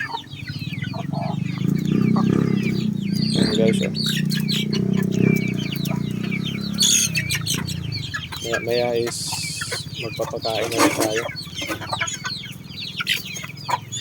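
Jolohano or Basilan native chickens raised for meat cluck and crow continuously nearby, with chirps and rooster calls layered over a steady farmyard hum while someone talks throughout.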